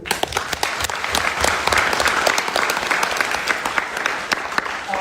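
Conference audience applauding after a presentation in Almaty: loud, dense clapping with sharp individual claps standing out, steady for the whole stretch.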